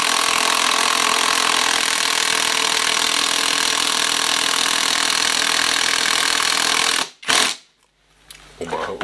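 Budget VTEK impact wrench running, a loud continuous buzzing mechanical hammering for about seven seconds before cutting off abruptly, followed by a brief clatter and quieter handling noises.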